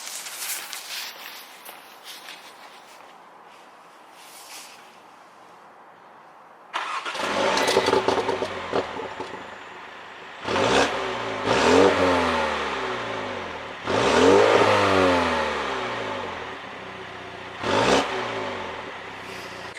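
A BMW M135i starting after a quiet stretch of soft handling noise, the engine catching with a loud crank and then settling into idle, followed by several sharp blips of revving that rise and fall, close by.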